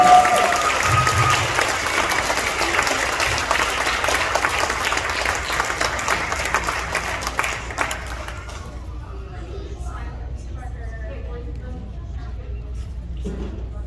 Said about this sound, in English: Can we give them all a big round of applause?